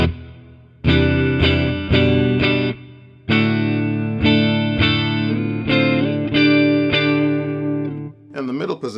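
Electric guitar, a Fender Limited Edition Parallel Universe Tele Thinline Super Deluxe played through its neck pickup with tone wide open, loud strummed chords struck in an uneven rhythm with ringing sustain and slight effects coloring, played alone up close.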